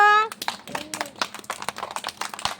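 Children at an anganwadi clap their hands together in a quick, uneven run of claps right after an adult's short spoken prompt, the claps near and fairly loud.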